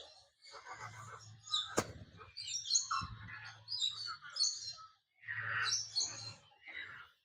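Several birds chirp and trill in bright, busy bursts inside an enclosed aviary at a safari park zoo in Thailand, with a low hum running underneath and a sharp click partway through.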